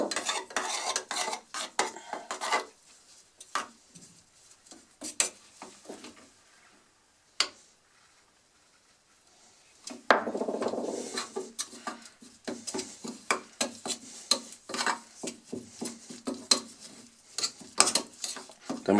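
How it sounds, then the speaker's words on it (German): A tool scrapes and clicks against a container, stirring thin hide glue into sawdust to mix a wood filler for restoring furniture parts damaged by woodworm, in irregular bursts with a short pause midway. "vermenge das jetzt mit dem Sägemehl"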